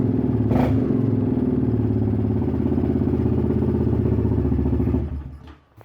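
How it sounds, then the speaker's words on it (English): A 2020 Yamaha Grizzly 700 ATV runs with its exhaust baffle pulled out, a loud, raspy, throbbing idle that holds steady for about five seconds before cutting off abruptly. "But you pull this out, it's very loud. Even more so when you give it gas."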